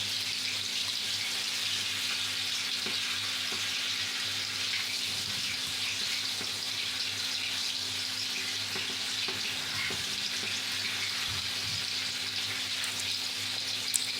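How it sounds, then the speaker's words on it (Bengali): Tomato chutney cooking in a pan, a steady close sizzle and bubbling hiss that runs throughout with a few faint scraping stirs, and no voices. "এটা নাড়াচাড়া করতেই থাকবো, কেননা নিচের তলাটা লেগে গেলে খেতে বাজে লাগবে।"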